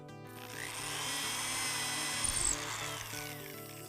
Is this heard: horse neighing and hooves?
no